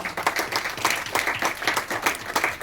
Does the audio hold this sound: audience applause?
yes